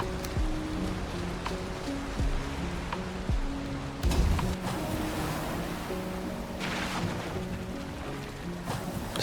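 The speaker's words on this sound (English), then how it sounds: "Sleeping through the rain and the night" Rain in Valheim, a steady hiss of falling drops washing over the scene under a soft musical drone, continuous and moderately loud.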